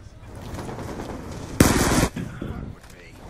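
A heavy machine gun in Black Ops 2 Zombies fires one loud, short burst in the middle of the clip over background game noise.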